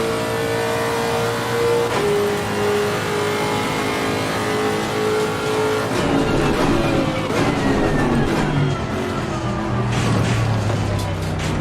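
A race car engine in the video game Assetto Corsa Competizione, revving and droning steadily with pitch rising through gear changes, then a rougher, busier engine stretch with clicks and rumble; moderately loud throughout.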